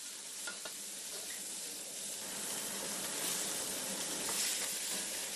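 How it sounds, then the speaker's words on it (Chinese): In a Deqing, Zhejiang kitchen, shredded pork, river shrimp and greens are stir-fried in a wok for lakeside abalone shrimp noodles: a continuous close sizzle with hissing steam and scraping stirring, no voices. "肉丝、河虾与青菜爆炒"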